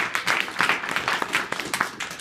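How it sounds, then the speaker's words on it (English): Brief applause from a rapid prototyping workshop audience, a small group clapping irregularly for about two seconds, moderately loud and fairly close. "So A round of applause for the whole team."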